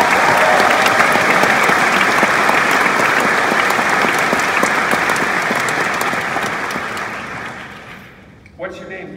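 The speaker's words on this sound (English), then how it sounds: "Give this guy a round of applause" Loud, sustained audience applause fills a lecture hall during a 2018 Portland talk with Q&A, a dense crowd clapping steadily for several seconds before fading out.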